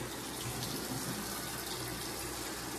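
Water from a tap runs steadily into a sink, a continuous hissing splash at a constant level, nearby, with no talking.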